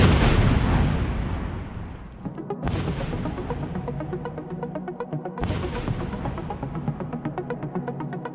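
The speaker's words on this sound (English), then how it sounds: "So we're going to take out the detonator here and attach it to the live explosive." A live explosive charge detonated to blast-test a G-Shock G-Steel watch gives a heavy, booming blast that rumbles and decays, followed by two more sharp cracks and long rolling echoes, loud and close.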